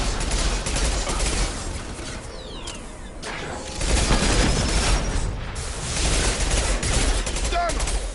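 Sustained gunfire in Mass Effect 2, a steady rattle of rapid shots and bursts that swells and eases over several seconds, loud and close with combat noise around it.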